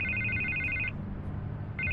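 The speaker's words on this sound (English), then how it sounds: "I can't get the phone to stop ringing." Telephone ringing in the Batman: The Telltale Series video game, an electronic ring burst that cuts off, leaves a short gap, then starts again over a low background hum.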